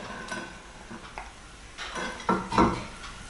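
A small spatula bought in California clinks and scrapes against dishes in a kitchen as cooked nuggets are lifted out, with a few light irregular knocks that grow louder near the end.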